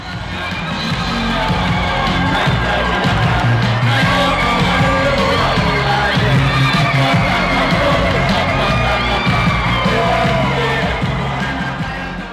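A large crowd at an athletics meet cheers and shouts continuously, a loud, sustained roar with whoops and yells rising throughout.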